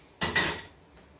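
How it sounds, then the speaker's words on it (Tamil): A large cooking pot set down on a stove, one sharp metallic clank with a brief ringing scrape, close and fairly loud, then fading to quiet. "நம்ம இந்த இவ்வளோ பெரிய சட்டி எடுத்து அடுப்பில் வச்சுப்போம்"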